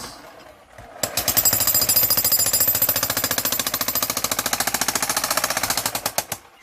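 A jackhammer breaks up an old concrete foundation during demolition, pounding continuously at a fast, steady rhythm, loud and close, with no voices, then stops abruptly.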